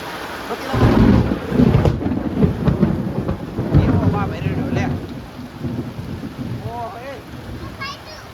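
Thunder rumbles heavily through steady rain, loud and close, with lightning, wind buffeting the microphone and a few faint bird chirps toward the end.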